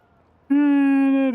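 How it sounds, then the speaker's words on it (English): A cat in the video game Indiana Jones and the Great Circle gives a single clear, steady meow lasting under a second, loud and close, after a brief quiet moment. "Kitty cats."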